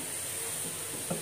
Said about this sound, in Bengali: গাজরটা অনেক সময় ভেজে নিতে হবে,